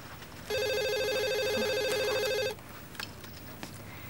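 Telephone ringing indoors, a single loud electronic ring burst lasting about two seconds, close and clear, followed by quiet room noise and a few faint knocks.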